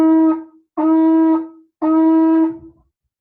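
A shofar blows shevarim, three separate broken blasts in a row with brief gaps between them, each held roughly half a second or more, loud, close and alone.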